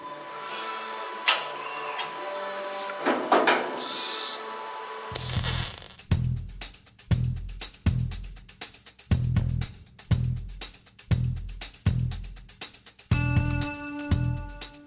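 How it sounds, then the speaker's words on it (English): Welding a trunk filler panel onto a 1965 Mustang convertible: after a quieter start, about ten sharp, evenly spaced welding bursts crackle up close, each lasting under a second. "So I'm going to go ahead and start welding this in."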